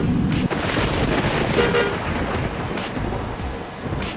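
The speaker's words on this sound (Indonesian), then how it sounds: "Kita klakson agar mobil yang di depannya minggir ke kiri teman-teman." An intercity bus on a rainy road in Pasuruan, Indonesia, gives several honks of its horn over loud, steady road and rain noise, heard from inside the vehicle.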